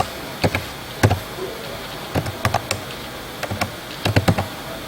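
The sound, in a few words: typing on a computer keyboard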